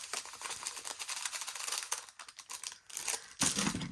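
Crinkly plastic bag of square diamond art drills being cut and torn open, a dense run of close rustling and snipping crackle that swells louder near the end.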